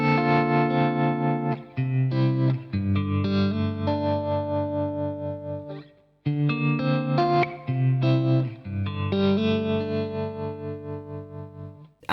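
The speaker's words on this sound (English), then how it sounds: "the amplitude side of the tremolo sounds like this" A guitar played through the amplitude tremolo side of a Jam Pedals Harmonious Monk effect, sustained chords pulsing steadily in volume, loud and alone with short gaps between phrases.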